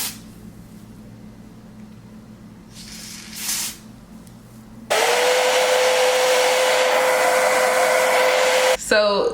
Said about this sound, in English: And then we're gonna blow dry, and this is layer 1.